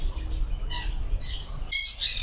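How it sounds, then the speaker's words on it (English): Rescue birds from around the world chirp in a small aviary sanctuary, with scattered high tweets and short calls over a low background rumble, several birds close by and none in steady rhythm. "It's a small but cute sanctuary for rescue birds from all over the world."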